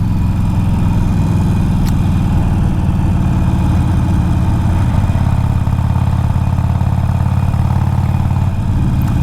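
A Harley-Davidson Iron 1200 motorcycle with a slightly rattly engine idles close by, making a loud, steady low rumble that holds evenly throughout.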